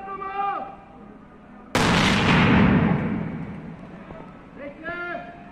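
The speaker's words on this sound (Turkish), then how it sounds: "kontrolü patlama!" A controlled explosion of a suspicious suitcase by a bomb disposal team in Bursa, Turkey: a single loud blast strikes suddenly, then a long rumbling roar decays for several seconds; excited voices shout before and after it.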